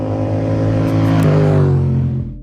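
A 2020 Yamaha XSR 700 motorcycle engine with a 270-degree crankshaft, running loud and close with a deep, throbbing tone that dips slightly in pitch near the end before tailing off, with no speech.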